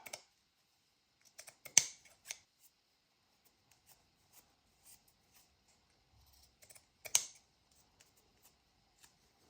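Scissors snip paper for a slashed paper journal, giving two sharp cutting bursts near the start and again later, with faint crinkling and handling sounds between them in a quiet room.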